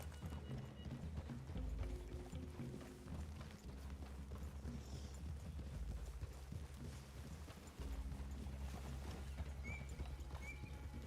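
Steady clip-clop of horse hooves at a walking pace in the video game Red Dead Redemption 2, close and continuous, with a low rumble underneath.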